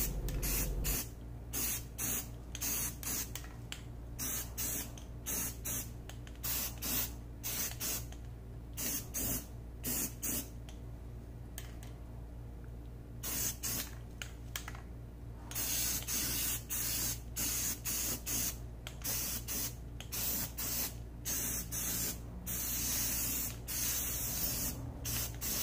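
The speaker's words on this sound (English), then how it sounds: "continuing to move the can while you spray. Don't stop moving the can until you stop hitting the nozzle each time." Rust-Oleum spray paint hisses from an aerosol can onto vintage Ronal rims for a Mercedes 190E, in many short repeated bursts with one longer continuous spray in the middle and brief gaps between them.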